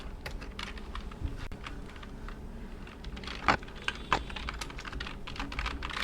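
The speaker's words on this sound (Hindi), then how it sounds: "पहले मैं हेडिंग टाइप कर देता हूँ" Keystrokes clatter on a computer keyboard during spreadsheet data entry, a steady run of light taps with a few louder clustered hits near the middle, fairly close.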